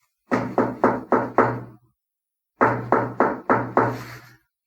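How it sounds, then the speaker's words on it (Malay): Loud, hard knocks on a bedroom door: a run of five heavy thuds, a pause of about a second, then another five in the same even rhythm, close and resonant. "Bunyi ketukan yang kuat mencengah kat telinga saya"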